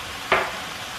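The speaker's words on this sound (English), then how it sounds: "you just kind of want to get those mushrooms browning" Mushrooms browning in a hot pan with Italian seasoning for a low-carb keto pasta dish give a single soft sizzle burst as they are stirred, fading into a quiet hiss.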